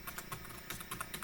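A title is typed on a computer keyboard as a quick, faint run of light key clicks in an uneven rhythm, heard alone.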